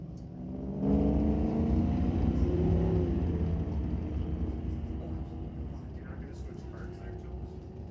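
Ford and Chevy pickup trucks drag racing at Mission Raceway, a loud engine roar swelling in near the start and holding steady, then easing slightly as it pulls away, with a commentator talking over it.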